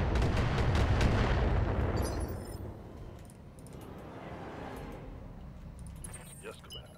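Mech weapons in the video game BattleTech fire uphill in a loud cluster of booming, rumbling shots that fade into a long roar. Later come quieter clicks and scattered impacts, with someone talking over parts of it.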